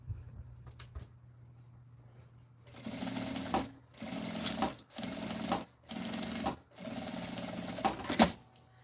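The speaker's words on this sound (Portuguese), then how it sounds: "E passa uma costura" Sewing machine stitching a zipper onto fabric for a tote bag, starting after a quiet hum and running in five or six close, rhythmic bursts separated by brief pauses.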